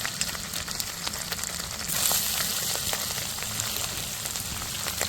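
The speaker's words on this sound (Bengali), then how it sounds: "আমি সাদা তেল দিয়ে দিয়েছি আর এরকম সাইজের আমি ছোট ছোট করে পনির কেটে নিয়েছি পনিরটা দিয়ে দেবো তেলের মধ্যে" Small cubes of paneer fry in white oil, giving a continuous close sizzle with fine crackling that swells slightly partway through, no talking.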